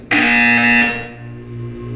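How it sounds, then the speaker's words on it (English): A loud electronic buzzer from the video game Portal 2 sounds in one harsh, sustained blast that fades into a lower lingering hum. "You will hear a buzzer."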